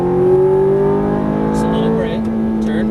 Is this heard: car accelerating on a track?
yes